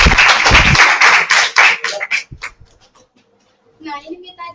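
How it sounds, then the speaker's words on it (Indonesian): A burst of lively group clapping from a class in an indoor room fades out after a couple of seconds, then quiet, then a voice speaks close by. "Tepuk tangan lagi sama teman-teman yang tadi."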